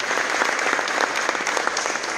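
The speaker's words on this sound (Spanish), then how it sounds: "yo les pido un fuerte aplauso a los tres" Dense, loud applause from an audience at a 5K race launch event, continuous clapping honouring three directors, with no voices over it.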